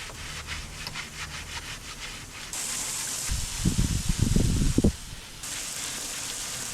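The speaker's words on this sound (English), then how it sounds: "I'll give it a scrubbing with a sandpaper sponge thing now to remove that." Burned driftwood being scrubbed with a sandpaper sponge, heard as a run of rough rubbing strokes that grows louder and coarser in a short burst toward the middle before settling back into a steady hiss.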